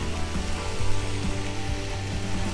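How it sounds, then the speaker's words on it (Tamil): Coriander leaves sautéing with onion and tomato in a pan for a tea-stall style chutney, giving a steady close sizzle and crackle throughout with no talking. "இப்போ கொத்தமல்லியை போட்டு வதக்கிடலாம்."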